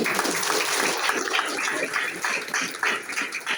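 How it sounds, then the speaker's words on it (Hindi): Audience applause follows a call to clap for an elderly man at a comedic stage event, a steady dense wash of clapping with no voices over it. "और बाबा के लिए जोरदार तालियां"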